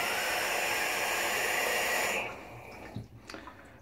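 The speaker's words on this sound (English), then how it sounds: "Fill up my bowl so you don't have to hear the water run all the time." Tap water runs steadily into a shaving bowl at work, a constant broadband rush that cuts off after about two seconds, followed by a few faint clinks and drips.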